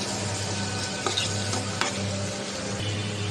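Onion frying in oil in a wok, a steady close sizzle with a low hum beneath and a couple of faint scrapes and clicks, no voices.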